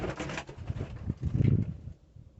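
Pet parrots bought from Germany, small white birds freshly unpacked, give a run of soft, cooing calls close by, with a brief louder burst in the middle before quieting.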